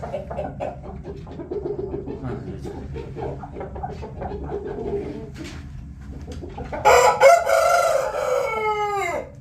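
Soft clucking and cheeping of young chickens runs under quiet talk, followed near the end by a loud, close rooster crow.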